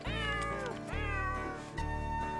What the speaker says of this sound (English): It's not like more cats meowing the choruses and tunes is gonna detract from this album experience.